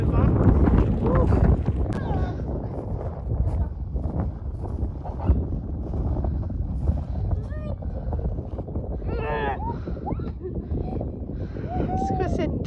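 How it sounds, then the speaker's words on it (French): Cold wind blows outdoors and buffets the microphone with a steady rumble, while people talk over it. "C'est pas très agréable le vent."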